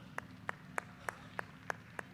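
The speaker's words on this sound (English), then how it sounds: "How about another round of applause for Eli Turnbull?" Applause at a feature race event comes through as seven sharp, evenly spaced hand claps about a third of a second apart. The clapping is faint and distant over a low background hum.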